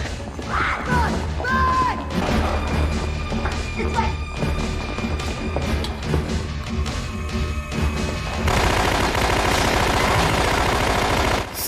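Gunfire and crashes from the action film Project Shadowchaser 2, with rapid loud bursts and impacts over a dense soundtrack, ending in a sustained roar.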